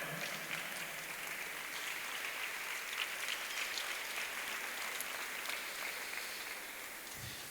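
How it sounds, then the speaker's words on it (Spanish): An audience applauds at a church gathering: sustained, even clapping that stays steady for several seconds and then tapers slightly near the end, with no voices over it. "Le damos un fuerte aplauso al Señor."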